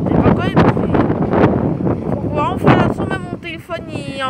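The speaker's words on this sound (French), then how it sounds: "Je sais même pas si vous m'entendez avec le vent, qu'il y a un vent de ouf là." Strong, near-storm wind on a beach at Cap d'Agde buffets the microphone in loud low rumbling gusts, with someone talking over it throughout.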